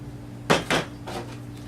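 Flour and catfish are mixed in a bowl, giving two quick clattering knocks against the bowl followed by fainter scraping, close and brief, with no voices.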